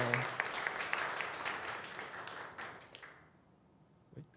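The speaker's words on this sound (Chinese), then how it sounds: "我们用掌声欢迎我们的嘉佑" A church congregation at a youth worship service claps to welcome a speaker; the steady applause carries for about three seconds, then thins to a few scattered claps and fades into quiet.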